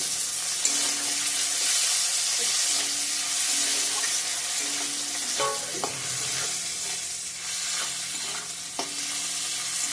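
Chopped ginger and tomato fry with whole spices in a pan. A steady, fairly loud sizzle runs throughout, broken by intermittent scraping and stirring clatters, with a few sharper knocks midway.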